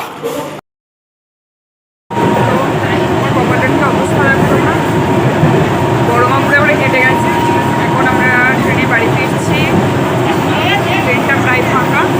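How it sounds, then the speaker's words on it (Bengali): Train pulling into Bardhaman Junction station: a loud, dense rumble that starts abruptly after a brief silence, with voices talking over it. "এসে গেছে আমাদের ট্রেন বর্ধমান জংশন"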